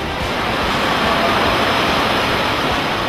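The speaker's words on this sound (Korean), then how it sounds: "실내 물놀이장을 찾는 사람들은 쏟아져 내리는 폭포 아래에서 시원히 독수를 맞으며" Water pours continuously from an eight-metre indoor artificial waterfall shower at a water park, a dense, steady roar close by with no talking.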